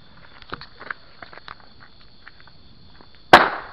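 Quiet scattered crackles and taps, then a Fourth of July firework fired from a big tube goes off with a single sharp loud bang near the end that fades with a lingering hiss.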